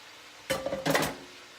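Chopped cabbage and string beans tumble into a soup pot in two quick bursts, a soft rustling clatter with light scraping, close and moderately quiet.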